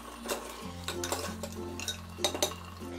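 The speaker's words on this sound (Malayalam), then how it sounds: "ഇത് നല്ലതുപോലെ ഒന്നും കൂടി ഒന്ന് ഇളക്കി കൊടുക്കാം." Mutton biryani masala of tomato and yogurt stirred in a pot, a ladle scraping and clinking against the metal in several short strokes over a low steady hum, no talking.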